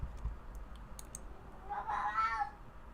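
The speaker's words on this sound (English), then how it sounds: "You guys are hearing my cat talk to us" A house cat, Neon Skireel, gives a single drawn-out meow partway through, moderately close. A few faint clicks come just before it in a quiet room.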